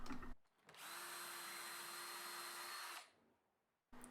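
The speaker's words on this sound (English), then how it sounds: "I can then drill holes for the bolts, again using a bit of masking tape so I didn't go too deep." A power drill bores bolt holes into a wooden mantel, one steady high whirring burst of about two seconds, close and clear, with brief quiet before and after.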